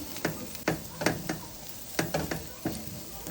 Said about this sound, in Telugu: మాడకూడదు, మొత్తం ఫ్లేమ్ లోలో పెట్టుకొని 2 సెకండ్స్ ఫ్రై చేద్దాము